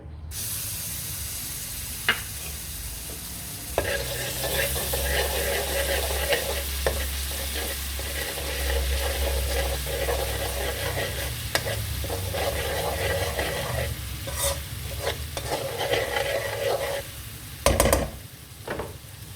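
A steady sizzle of ginger garlic paste frying in hot oil, with occasional scraping and stirring clatters from a spoon against the pan.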